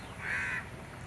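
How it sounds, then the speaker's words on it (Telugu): A single drawn-out caw from a nearby bird at a hotel garden, moderately loud over a constant low background hum. "మీకు ఒక జంట పక్షులు చూపిస్తాను."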